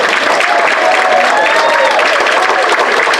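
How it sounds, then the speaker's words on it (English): Audience applause at a Black History celebration in a senior living community hall, a steady dense wash of clapping from a crowd with voices mixed in, filling the room throughout. "Let's give them a round of applause."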